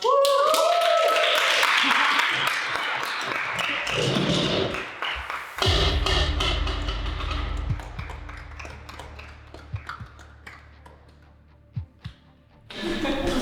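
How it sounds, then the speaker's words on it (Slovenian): An audience at a film workshop gathering claps in a burst of applause that fades over a few seconds, followed by scattered taps and thuds as voices talk. "Prosim, en aplavz."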